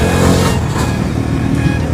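Bajaj Dominar 250 motorcycle engine on a downshift followed by throttle, a loud close growl with a brief surge in revs over rushing wind noise.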